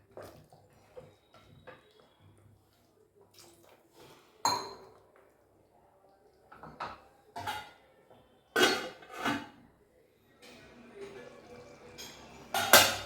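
Chicken gravy with ground coconut-cashew paste being stirred in a pan: sparse metallic clinks and scrapes of a spoon against the pan come in short bursts with quiet gaps, close and moderately loud.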